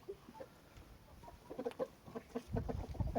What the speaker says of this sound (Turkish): Tavuklar da değil bunlar, pilişler.